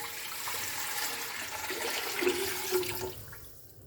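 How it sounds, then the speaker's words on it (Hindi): Water pours into a pressure cooker holding chicken pieces and spices, a steady splashing stream for a few seconds that fades out at the end. "अब यहाँ पे साथ ही हम पानी ऐड करेंगे।"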